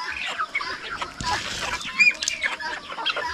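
Crossbred chickens from Rhode Island Red, Brahma and native stock clucking together in a flock, a busy overlapping chorus of clucks and short calls close by, with a faint voice underneath.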